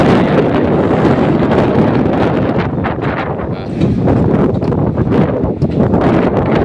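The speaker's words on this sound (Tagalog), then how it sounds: "Malakas ang hangin na" Strong wind buffets the microphone continuously at a railway construction site, a loud, rough roar with gusty surges throughout.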